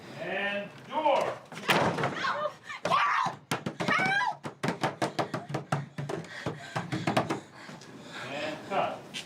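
Door banged shut on a horror film set during a take, a burst of sharp thumps and slams, with a voice calling out just before and scattered speech and clatter around it.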